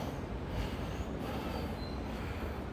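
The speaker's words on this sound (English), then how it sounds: "That's a train over here." A train passes near Old Sacramento, giving a steady, loud rumble and rolling roar of rail wheels with a faint squeal on top, constant for the whole stretch with no talk.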